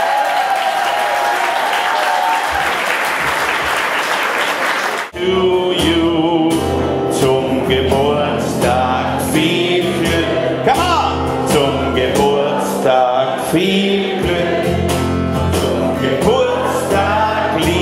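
Party guests at a show give frenetic applause, a loud dense wash of clapping for about five seconds before music abruptly takes over.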